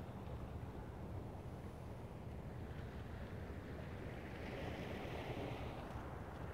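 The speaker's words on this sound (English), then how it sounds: "I don't know if you guys are picking up the sound of the water or not" Water laps gently and steadily in a small cove, a soft, continuous wash with faint wind, heard alone without voices.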